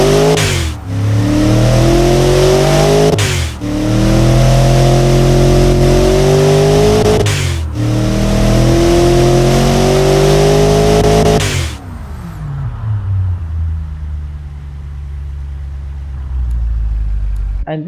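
A Chevrolet LT1 truck V8 in the Automation game revs loudly several times in a row, each rise in pitch cut off by a sharp break, then drops to a lower rumbling idle at the end.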